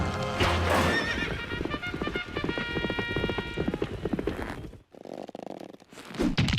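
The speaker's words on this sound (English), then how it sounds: "Clippity clop, clippity clop, clippity clop, clippity clop." Horse hooves clip-clopping in the video game The Great Ace Attorney Chronicles, a steady rhythmic trot mixed with a whinny and game music, fairly loud and close, followed by a brief muffled passage.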